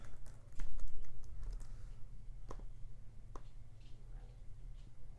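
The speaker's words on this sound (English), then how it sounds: "Just type my blog in there." Fingers type on a computer keyboard at moderate volume, with irregular clusters of light key clicks and a few sharper taps spread over several seconds against a quiet room.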